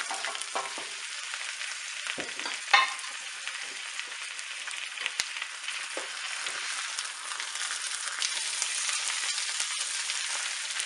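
Lamb shanks fry in oil with garlic for paya: a continuous close crackling sizzle with scattered pops and a few clinks throughout.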